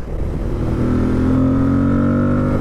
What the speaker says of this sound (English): Listen to that exhaust roar.